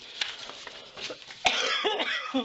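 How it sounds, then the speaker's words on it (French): Several coughs, one loud and abrupt, with faint voices mumbling nearby. "Je m'excuse, je tousse, comme d'habitude."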